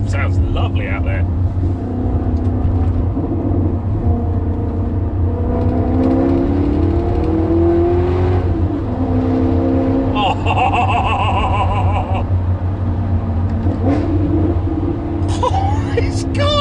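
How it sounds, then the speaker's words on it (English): A Maserati fitted with a Ferrari V8 engine drives and revs, its loud engine note rising and falling close by, with a person speaking over it. "this car sounds amazing"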